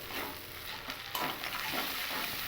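Tomato and chilli powder are stirred in a frying pan for a vegetarian jackfruit curry, with a soft, steady sizzle and a close scraping stir throughout, and no talking.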